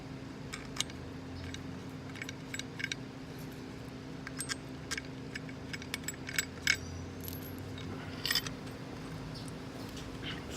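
Small metal screws clink and rattle in hand while a new water pump is fitted to a 2003–2008 Jaguar S-Type, with scattered light ticks and jingles spread through a quiet workshop background.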